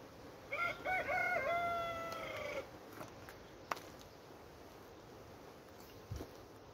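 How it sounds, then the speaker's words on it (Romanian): A rooster in an area with three roosters crows once in a long drawn-out call, fairly distant, then gives way to quiet outdoor ambience with a single sharp click. "Deci am în zonă 3 cocoși care cântă."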